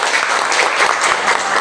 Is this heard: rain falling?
no